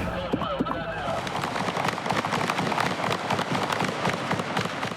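Gunshots during a police shooting in Miami, heard as dense, rapid cracks and pops layered over a noisy, crowded background with voices throughout.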